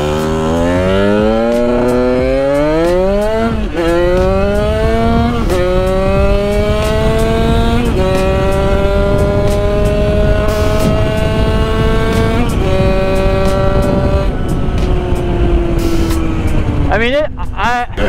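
A Sherco supermoto motorcycle with a 77cc Metrakit kit is ridden on city streets; a loud, close engine whine climbs and falls through several revs and gear changes, with a sharp rev at the end.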